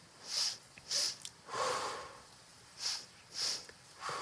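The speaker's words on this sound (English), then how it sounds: "Classic breath is a sniff, sniff, and exhale." Several short, sharp sniffing breaths through the nose, mostly in pairs, close and fairly quiet, with pauses between.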